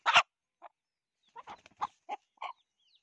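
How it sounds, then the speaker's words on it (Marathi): A one-year-old village rooster gives a sharp loud call at the start, then a series of short, close clucks and grunts separated by silence. "तर हा 1 वर्षाचा कोंबडा आहे."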